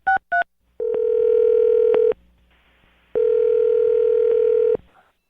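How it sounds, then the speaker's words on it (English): Telephone dialing a number: two quick keypad beeps, then two long, loud, steady tones separated by a short gap, heard clearly and alone. "I'm going to dial his phone number right now"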